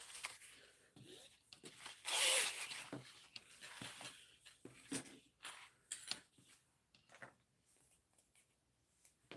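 Zipper tape being handled and pulled while making an Erica bowler bag, with soft crinkly rubs, scrapes and small taps up close, a brief bright tearing rip near the start, and no talking.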